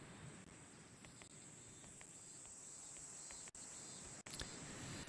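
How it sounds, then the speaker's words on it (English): Cicadas drone in the game Disaster Report, a dense, even insect buzz filling the scene continuously, broken by two brief dropouts. "the cicadas are getting particularly loud"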